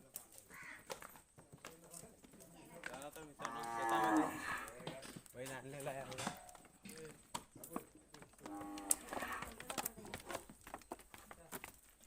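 Bullocks low several times on a farm field in the Konkan before ploughing, loud drawn-out calls rising over a person talking nearby, with a stretch of quieter talk between the calls.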